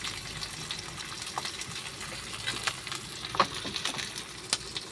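Sliced onions fry in oil in a pan, giving a continuous close crackle with scattered small pops and stirring scrapes and no talking.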